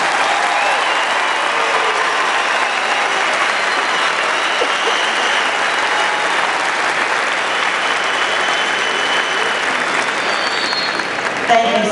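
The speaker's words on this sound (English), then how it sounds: "Please give these students a round of applause." Broad, continuous applause from a high school graduation audience in a large hall, even and sustained for the full length, with a faint voice underneath.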